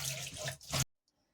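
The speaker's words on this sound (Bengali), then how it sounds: "শাকগুলো আমার পরিষ্কার করে নেওয়া হয়ে গেছে, এখন আমি ধুয়ে নেব।" Water spinach leaves washed under a running tap, a close, steady splashing stream that cuts off abruptly into near silence.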